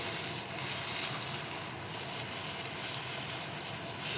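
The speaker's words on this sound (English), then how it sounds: "What I'm doing now is get them nice and seared." Beef shank searing in a hot pan, a steady, even hiss and crackle of frying that holds at a constant level throughout with no voices.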